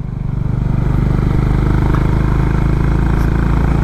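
A Honda Highness CB350 motorcycle riding on mountain roads, a loud, steady single-cylinder engine thrum that swells in the first half-second and then holds a continuous throbbing drone.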